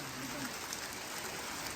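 Hail falls on the Mardi trek in the Himalayas, a steady dense hiss of pattering ice close by, even and unbroken throughout, fairly quiet overall.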